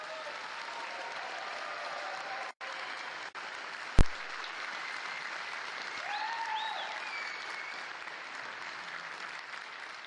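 Crowd at the Fanfest 2012 keynote in Iceland clapping and cheering for CCP employees, broad sustained applause with scattered whoops and a sharp knock near the middle, moderately distant.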